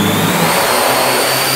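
A remote-controlled flying device taking off, a steady loud whirring motor drone with a faint shift in pitch, alone and close.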